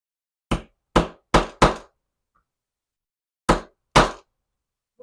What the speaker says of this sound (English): I'm going to hammer this little puppy down in there